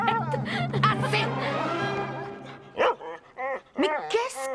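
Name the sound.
dog barking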